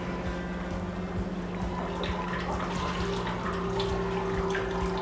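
Water is poured steadily into a pot of Awadhi mutton stew with whole spices, a continuous close splashing trickle running unbroken for several seconds with no talk over it.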